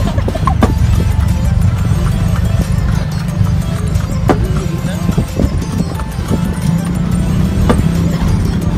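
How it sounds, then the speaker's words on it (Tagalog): Horse hooves clip-clop steadily as the animal pulls a kalesa carriage around Dumaguete, with a steady rumble of street traffic underneath and people chatting over the sound. "Sakay ng kabayo around Dumaguete."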